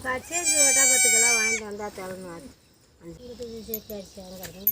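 A mother goat with two young kids bleats up close: one long, wavering cry, then a short pause and a run of shorter, choppy bleats.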